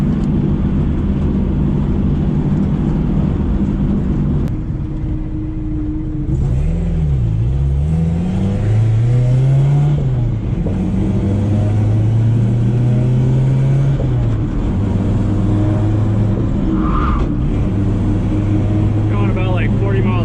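Car with a freshly bled hydraulic e-brake accelerating along a small street to around 40 mph, engine note rising and shifting through gears steadily and close by, with someone talking over it.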